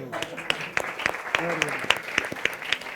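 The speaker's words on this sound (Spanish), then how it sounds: "Un aplauso." A small audience at a talk show claps with sharp, uneven slaps, while a voice talks underneath the applause throughout.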